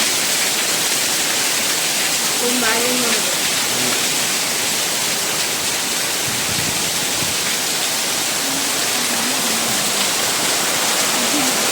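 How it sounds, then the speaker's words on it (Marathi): Heavy rain pours outside a balcony at night, a dense, steady roar of water that stays loud and constant from start to finish, with faint voices now and then underneath. "मस्त पाऊस पडतोय"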